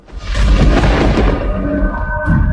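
Deep rolling thunder from a supercell storm over the central plains, a loud sustained rumble that swells quickly and lingers for a couple of seconds.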